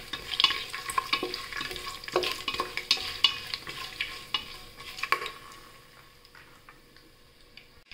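Whole spices and cashews (cinnamon, cloves, cumin, bay leaf) crackle and sizzle in hot oil, with scattered pops and stirring scrapes that fade to a quieter sizzle toward the end.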